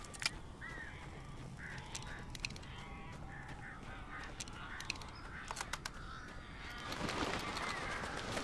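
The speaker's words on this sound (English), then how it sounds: "These birds are weird." Crows caw in the Alan Wake video game, scattered short calls over a steady ambient hum, with a rising whooshing swell near the end.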